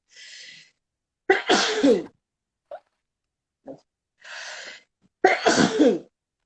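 Two sneezes from a woman with rhinitis, each preceded by a soft sharp inhale, loud and close in an otherwise quiet room, spaced a few seconds apart.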